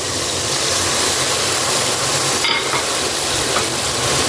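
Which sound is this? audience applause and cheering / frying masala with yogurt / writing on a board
frying masala with yogurt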